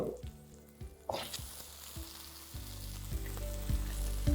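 Chopped tomatoes drop into a pan of frying peanuts, bringing a burst of sizzling that continues loud and close, with repeated scraping and knocks of a spoon as the mix is stirred.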